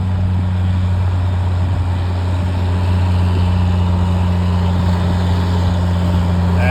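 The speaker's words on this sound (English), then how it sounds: "You can hear that 6-cylinder just chugging away." An Oliver tractor's six-cylinder engine chugs through a tractor pull, a loud, steady low drone that holds without a break from start to finish.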